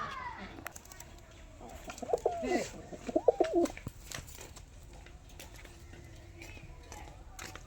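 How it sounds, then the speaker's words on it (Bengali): Pigeons kept by a pigeon fancier cooing close by, a short burst of throaty coos in the middle of the clip over background rustle and faint voices. "খুব ভালো পায়রা।"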